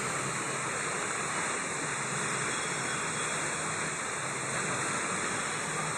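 Batlag Falls waterfall produces a steady, broad rush of falling water, continuous and unbroken, heard from a moderate distance with no talk over it.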